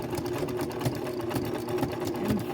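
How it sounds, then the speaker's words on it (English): A sewing machine zigzag-stitches a patch and backstitches at the start, giving a close, rhythmic mechanical whirring that runs on without a break for a couple of seconds. No one speaks. "Always backstitch when you begin a sewing project."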